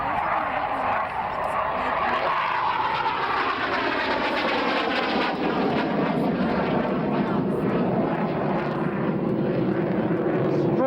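A steady propeller aircraft engine drones loudly and continuously during an airshow aerobatic display, its pitch shifting slightly as the plane banks and climbs, with a voice talking over it.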